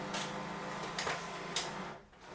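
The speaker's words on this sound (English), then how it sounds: "you see the printer will take one by one each sheet of paper without you having to touch anything." A Canon MAXIFY MB2720 printer feeds and scans sheets of paper one at a time, giving a steady mechanical hum broken by three short, sharp paper-feed swishes and clicks, heard close up with no talking.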